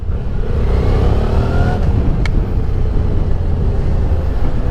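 An SVT 650X motorcycle engine runs loud and close, a rough continuous rumble with a slight rise in pitch as it revs, no voices over it.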